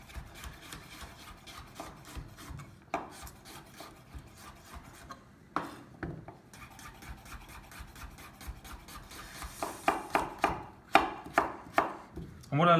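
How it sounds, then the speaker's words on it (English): Squash being sliced thin with a knife on a board, heard as scattered crisp cuts at first, then a quicker run of rhythmic chops toward the end, close and fairly quiet. "probably nice thin slices. It means that the squash will cook quicker"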